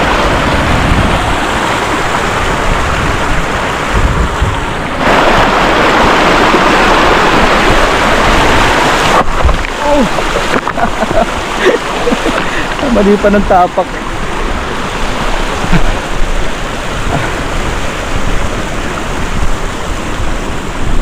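A wide, rocky river rushes loudly and steadily close by, a dense broadband roar of water over stones. Brief talk and footsteps on rocks break in partway through.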